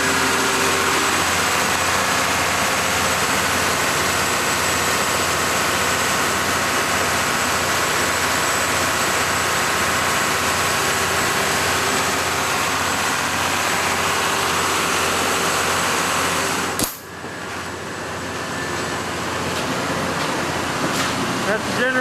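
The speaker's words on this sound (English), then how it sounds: "That's the generator module." A generator module engine at Summit Station, Greenland, hums in a steady loud drone inside an enclosed soundproof room, then a door-like thump briefly shifts the tone before the hum settles again.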